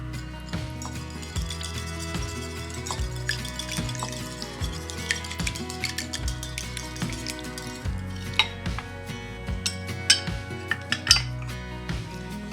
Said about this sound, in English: I'm going to whisk these together